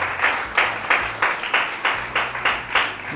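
Rhythmic unison clapping from a studio audience on a TV morning show, about nine evenly spaced claps in a steady beat, for a doctor guest.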